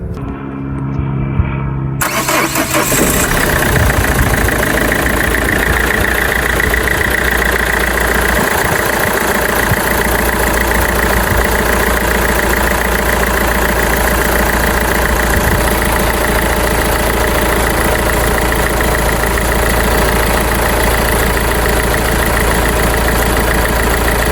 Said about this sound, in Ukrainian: Зараз спробуємо завести двигун.